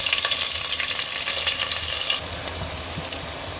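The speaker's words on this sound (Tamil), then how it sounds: "இப்போ நம்ம ஆனியன் நல்லா ஃப்ரை ஆகிடுச்சு." Onions sizzle steadily in a hot pan as the base for paneer biryani, a dense crackling frying hiss that stays loud at first, then drops slightly softer partway through, with occasional stirring scrapes and no voices.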